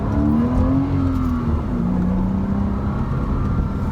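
A used Porsche Cayman sports car engine revs loudly and steadily up close in second gear, its pitch climbing, easing off, then rising again.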